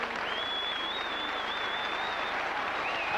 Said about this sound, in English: rapturous applause for Ian Pickermans, who applauds the popular side faithful as he comes off to the dugout